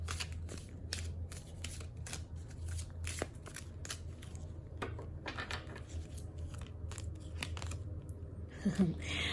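Egyptian tarot cards being shuffled close by, a quick irregular run of crisp riffling snaps and slides, fairly quiet and continuous.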